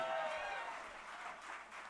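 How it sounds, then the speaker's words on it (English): Audience clapping at a benefit concert for immigrants at the Grey Eagle, a steady wash of applause at moderate level filling the short stretch with no voices over it. "You can clap for that, by the way."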